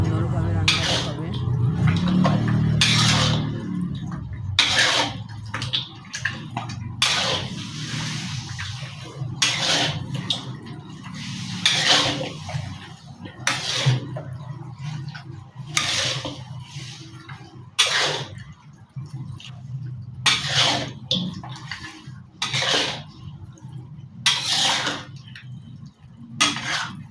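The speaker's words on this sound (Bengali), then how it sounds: "এবার হচ্ছে নেড়ে দিচ্ছি ভালো করে কড়াইয়ে।" Chicken curry being stirred in a metal kadai (wok), a spoon scraping and clanking against the pan in regular repeated strokes, close and clear over a low background hum.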